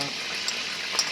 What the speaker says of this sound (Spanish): en el aceite de freír las cosas ya vamos a empezar a poner los ajos para hacer la salsa